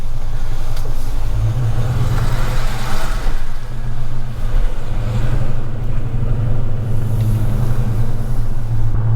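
A Dodge Charger Scatpack in sport mode pulls away from a shop, its deep engine rumble and exhaust drone steady and close throughout with mild throttle swells, no one talking.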